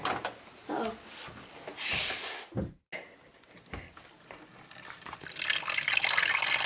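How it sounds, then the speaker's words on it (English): A tap at a homestead runs with weak pressure, giving uneven splashing and gushing bursts that drop to near silence briefly before resuming, with rubbing and handling noises mixed in. "It's running water"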